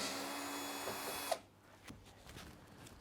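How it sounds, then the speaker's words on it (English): A power screwdriver whirs steadily while backing screws out of an LG heat pump dryer panel, then stops abruptly with a click, leaving faint handling taps and knocks. "let's remove these screws"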